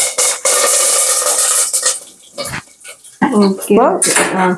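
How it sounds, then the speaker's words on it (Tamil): Mustard seeds splutter and crackle in hot oil for a Kerala-style tapioca fry, a dense, loud sizzling burst at first that fades as a voice begins talking over the pan. "கடுகு வந்து பொடியுது"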